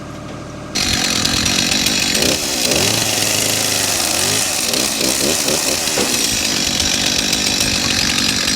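A chainsaw is cutting a tree limb during amateur tree trimming, revving loud and close with a steady snarl that dips and rises under load as it bites into the wood.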